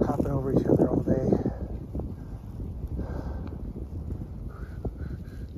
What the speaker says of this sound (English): It's a little windy here, as you can hear